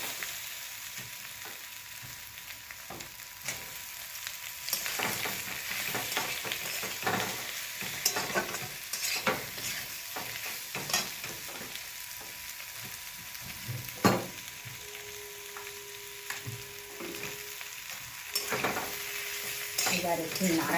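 Boiled potatoes stirred with turmeric in a frying pan, heard as a soft ongoing sizzle with repeated scraping spatula strokes and occasional clinks against the pan, fairly quiet and without speech.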